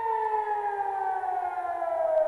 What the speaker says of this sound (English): Sirens were blaring across major cities in Israel, including Jerusalem and Tel Aviv.